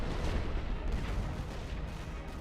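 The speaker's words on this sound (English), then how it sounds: "My boys are advancing through heavy artillery." Heavy artillery fire in the WWI game The Great War: Western Front forms a dense, continuous roar of overlapping booms and rumbling blasts, loud and unbroken throughout.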